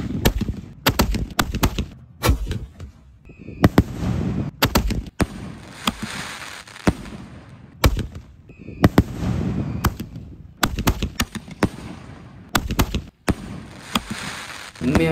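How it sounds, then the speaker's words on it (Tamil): Diwali firecrackers bang in rapid, irregular bursts, sharp loud cracks tumbling over one another with brief gaps, like a string going off nearby. "உண்மையாகவே பட்டாசு எல்லாம் வேறு லெவலில் இருந்துச்சுங்க"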